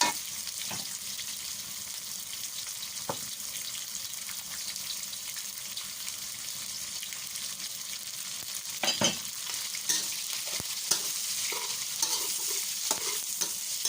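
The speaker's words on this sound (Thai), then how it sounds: "เมื่อเราเจียวกระเทียมจนเหลืองนะคะ แล้วก็จะใส่หมูสามชั้นลงไปผั" Pork belly stir-fried with golden fried garlic, a steady close sizzle with frequent scraping stirs and clicks of a utensil against the pan.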